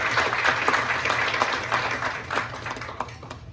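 Audience applause at a talk on the architecture of Myron Goldfinger, a steady wash of many hands clapping through the room for a few seconds without a break.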